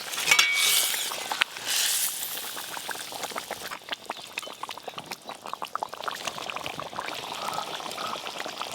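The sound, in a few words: fried catla fish added into boiling curd gravy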